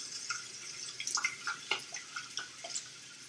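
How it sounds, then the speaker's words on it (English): Water runs and splashes into a sprouting jar, with irregular drips and gurgles over a soft steady flow, close up and fairly quiet. "fill it with water."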